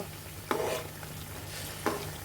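Chicken and pointed gourd dolma frying in a pan, steady soft sizzle with two sharp scraping stirs of a spatula about a second apart.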